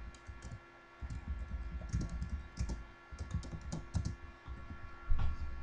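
Keys clatter on a computer keyboard as text is typed, with quick irregular bursts of close, soft clicks separated by short pauses.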